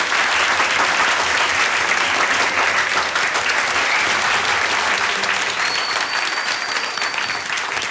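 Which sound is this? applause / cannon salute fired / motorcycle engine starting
applause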